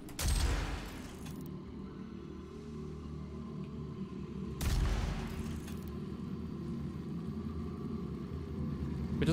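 A rocket launcher fires at a Taurus demon in DOOM: two heavy, booming blasts about four and a half seconds apart, each decaying into a sustained low mechanical hum.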